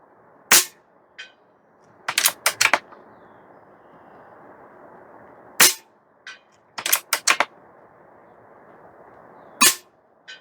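A Barra 250Z PCP airgun fires pellets outdoors at a range, giving sharp cracks, some single and some in quick clusters, with pellet impacts or echoes following several shots against light wind noise.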